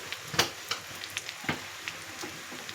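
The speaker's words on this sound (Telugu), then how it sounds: "దీంట్లో కొంచెం పసుపు వేసుకొని బాగా అటు ఇటు కొంచెం బ్రౌనిష్ కలర్ వచ్చేదాకా వేయించుకుంటా అండి" Rice fries with turmeric in a pan for vegetable uppindi, a soft steady sizzle broken by several sharp pops and crackles, close and quiet, with no talking.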